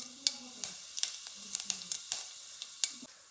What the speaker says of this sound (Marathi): मोहरी चांगली तडतडल्यानंतर याच्यामध्ये घालायचे जिरे